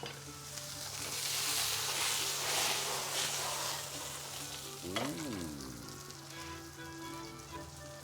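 Mushrooms sizzle steadily in a hot pan over a gas flame, a dense crackling fry that holds throughout with no talking. A short clatter sounds partway through, as if from a utensil.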